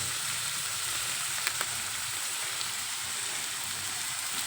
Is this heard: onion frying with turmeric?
yes